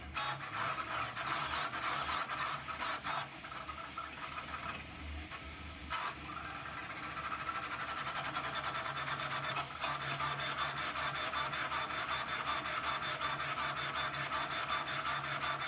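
An LH Stinger 3D printer runs a test print at 1000 mm/s, giving a fast, buzzing, rasping motor whir with quick shifts and short pauses, steady and moderately quiet.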